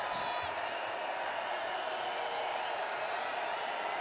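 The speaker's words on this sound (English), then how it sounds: "Crowd making noise for Wyoming" Football fans at the Arizona Bowl stadium roar for Wyoming in a steady, distant wash of crowd noise, with a broadcast voice speaking over it.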